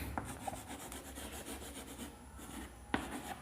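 Chalk scratches and taps on a classroom board while numbers are written out, faint rubbing strokes broken by a few sharper knocks and no talking.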